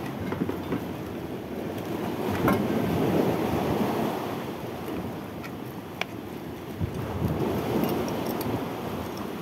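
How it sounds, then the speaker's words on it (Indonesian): Sea surf at high tide with wind, a steady rumbling wash of waves that swells and eases continuously, fairly close, with no voices. "Jadi di laut sini ombaknya lagi pasang ya"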